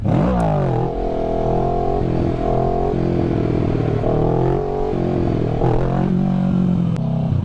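A Kawasaki Ninja 650 motorcycle engine drones loud and close, rising and falling through steady revs as it is worked up for a wheelie, with no voices.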